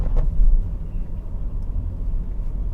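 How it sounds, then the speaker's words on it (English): A 2022 Mercedes Citan commercial van drives through Hamburg city streets, giving a steady low engine and road rumble from inside the cabin, continuous and fairly loud with no talk. "So right now we are driving in Hamburg, the port city, all the way in the north of Germany."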